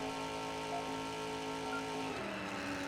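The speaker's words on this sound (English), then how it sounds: "that's actually a little bit loud, just that revving" A car engine in the video game Danger Zone hums with a steady, tonal mid-pitched drone that slightly shifts pitch near the end, heard alone without voices.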